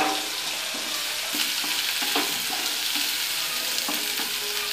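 A pan of onion mixture with ginger garlic paste and turmeric sizzles steadily while a spoon stirs it, scraping the pan in irregular strokes close up, with no talking.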